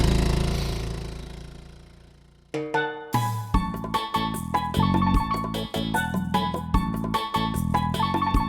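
A Honda outboard motor on a Porta-Bote sputters to life after a fading drone, then runs with a steady, close, rapid chugging beat and mechanical knocking throughout.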